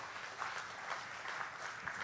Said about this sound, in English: Can we once again give a round of applause to Ibu Sri Mulyani